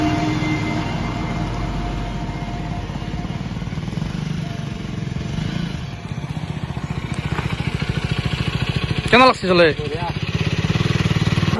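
A KTM Duke 250 motorcycle runs on a test drive at a dealership, its engine putting out a steady, rapid mechanical drone close by while voices talk over it.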